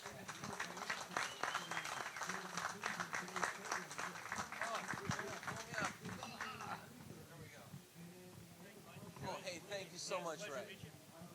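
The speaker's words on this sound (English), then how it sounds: "how about a big round of applause for everybody here?" An audience at the Autogeek Detail Fest show opening claps in a round of applause that runs throughout, mixed with someone talking over the crowd.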